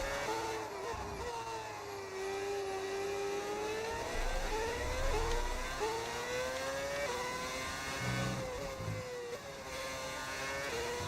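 An F1 car engine in the F1 26 racing game holds a steady high-pitched whine, its pitch dipping and climbing through gear changes and downshifts, at moderate level with no talking.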